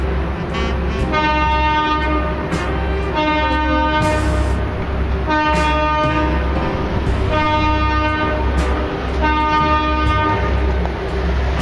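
A train horn gives long, loud, harmonic blasts in repeated bursts of about a second each, sounding over a steady low rumble as the signal to lower a drawbridge over the Cape Fear River.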